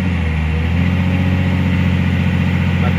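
A heavy diesel engine of a CAT 345 excavator idles steadily, loud and close, with a constant low rumble and rhythmic pulsing throughout; the engine has an intermittent acceleration fault.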